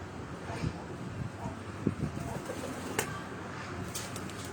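Breeder pigeons on a rooftop in Rawat, Chak Beli Road, give soft, scattered coos and calls over steady outdoor wind noise, with a few brief sharper sounds breaking through.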